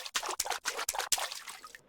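Footsteps splashing through shallow water in a Viking Village video game, about five or six quick sloshing steps with dripping, trickling tails, close and moderately loud, no voices.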